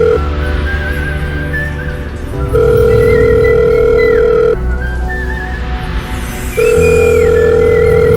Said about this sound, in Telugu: హే సిరి, కాల్ నాన్న.